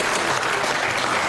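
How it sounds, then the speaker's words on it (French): A crowd applauds oriental dancers at a show, a steady dense burst of clapping heard alone for a moment. "Applaudissez ces merveilleuses danseuses orientales"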